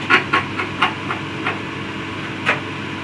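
A SABRE 250 10-inch bandsaw runs under test, a low steady mechanical hum with a handful of sharp, irregular ticks and knocks scattered over the first few seconds and one more near the end.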